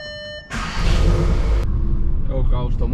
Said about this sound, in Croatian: Evo kao što možete čuti, pojačali smo popse